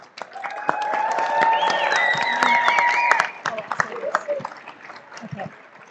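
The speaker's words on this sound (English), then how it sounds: "let's give them all a round of applause" Audience applause mixed with cheering and whistles for students at an evening school event, loud and sustained for about three seconds before thinning into scattered claps and murmuring voices.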